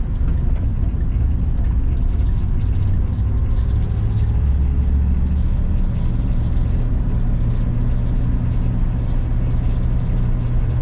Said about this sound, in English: Very smooth running car, seems very original.